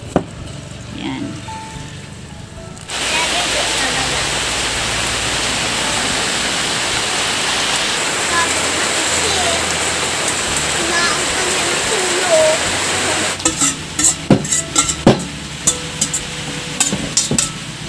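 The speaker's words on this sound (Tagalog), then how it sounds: "Albusan ko muna siya ng mainit na tubig para mawala yung pakla ng ating labong." Hot water poured over bamboo shoots to blanch them for lumpiang shanghai, a steady rushing splash that runs loud and continuous for about ten seconds before tapering into scattered drips and clatter.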